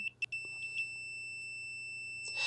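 A single clear high-pitched multimeter continuity beep sustained steadily while probing a transistor on a Samsung TV One Connect Box board, with faint handling clicks near the start and a brief rustle at the end.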